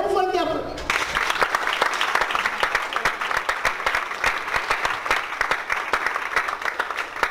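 A church congregation bursts into loud, sustained applause for a visiting preacher, the clapping dense and steady throughout after a brief moment of speech at the start.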